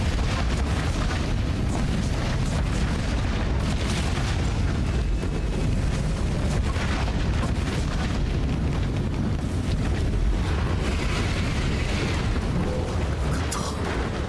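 Booming fireworks burst continuously in the video game Wo Long, a dense, loud barrage of overlapping explosions and pops rumbling through the whole stretch without pause.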